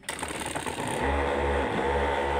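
A homemade water pump driven by a dynamo motor switches on, jumping from a quiet start into a steady, loud motor hum with a pulsing low throb and a faint whir on top.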